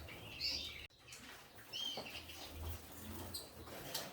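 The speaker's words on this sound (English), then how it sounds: "And now here we have all my over-year hen canaries, my breeding hen canaries." Hen canaries in a birdroom give scattered bright chirps and short calls, near and clear, with wing flutters and soft rustling between, no voices.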